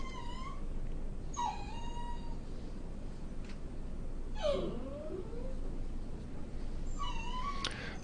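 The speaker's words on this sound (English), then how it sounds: "My dog is making sounds it normally doesn't" A dog's high, wavering whimpers and whines come in several separate bursts against a steady background hiss. There is no talk.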